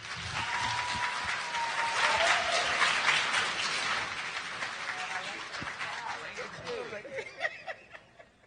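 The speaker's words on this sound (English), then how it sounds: "another big round of applause for Mayor Sylvester Turner" Applause at a youth excellence recognition ceremony, a steady wash of clapping from the audience that gradually thins into scattered claps toward the end, with some voices and chuckles mixed in.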